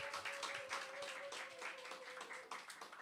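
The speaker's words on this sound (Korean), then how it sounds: "박수." A church congregation breaks into brisk, steady applause, many hands clapping together at moderate distance, sustained throughout with no talk over it.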